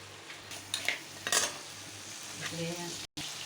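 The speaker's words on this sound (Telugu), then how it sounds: "ఈ విధంగా మనం పీతల్ని వేసుకొని చక్కగా కలుపుకుందామండి" Crabs are stirred in a curry pan, with a spoon scraping and clinking against the metal over a steady low sizzle, a few sharp scrapes standing out close by.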